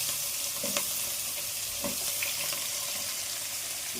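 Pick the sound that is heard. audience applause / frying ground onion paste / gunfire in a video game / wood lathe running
frying ground onion paste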